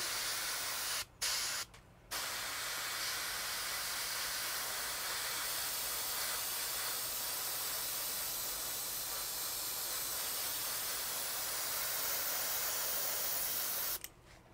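Thin paint hisses steadily from a spray gun onto the right-of-way of an HO scale model railroad, a continuous close airy spray with two brief pauses near the start and a stop at the end.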